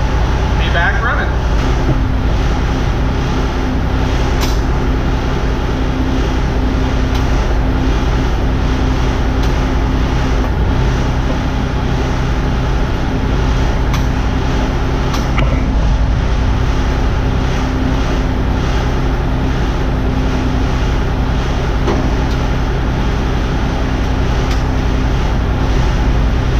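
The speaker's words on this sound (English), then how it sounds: "I figured this would be a fun opportunity to film driving it" A Crown Supercoach converted into an RV drives to a weigh scale, its engine and road noise a loud, constant interior rumble that fills the whole stretch with no pause.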